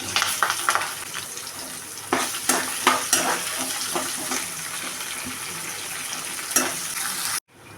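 Onion fries in hot oil with mustard seeds, cumin, green chillies and curry leaves for an okra masala curry, a constant close sizzle with scattered stirring clatters and crackles before it cuts off abruptly.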